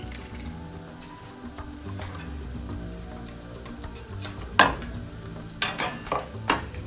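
Garlic and sausage sauté in oil in a pan for jambalaya, a steady sizzle with scraping stirs and a few sharp utensil clinks against the pan near the end.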